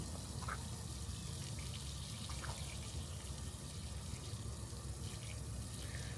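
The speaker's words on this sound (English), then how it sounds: "I think we're taking on water somewhere." Water trickles and gurgles steadily into the hull of a small MacGregor 26M sailboat, a faint continuous leak with occasional soft drips and no voices.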